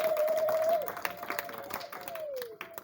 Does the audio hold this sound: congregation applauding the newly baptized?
yes